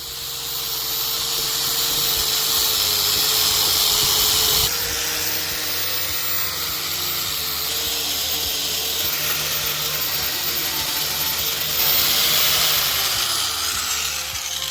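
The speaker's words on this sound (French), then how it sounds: "Je vais tenter à la meuleuse, voir un truc là." An angle grinder stripping paint from an old radiator during a house renovation gives off a continuous loud, steady whirring hiss that runs unbroken and close.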